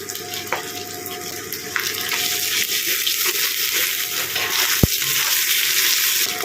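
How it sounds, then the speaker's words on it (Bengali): Onions tossed into ginger and garlic paste in a pan, frying into a steady, close, sizzling hiss that runs throughout, with one brief sharp knock near the end. "আদা রসুনটা দু মিনিট ফ্রাই করে নেওয়ার পরে এর মধ্যে পেঁয়াজগুলো দিয়ে দিলাম"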